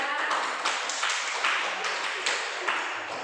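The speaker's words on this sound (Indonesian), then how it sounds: "tepuk tangan buat kelompok 3" Classroom clapping for group 3 after a student presentation, a moderate patter of hands from pupils with a few louder accents, fairly faint and steady for a few seconds, with brief voices mixed in.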